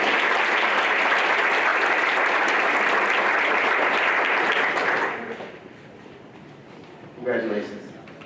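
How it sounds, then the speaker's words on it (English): Loud, sustained applause from a crowd at a school board meeting fills the room for about five seconds, then fades out, followed by a brief voice. "That's worthy of a round of applause."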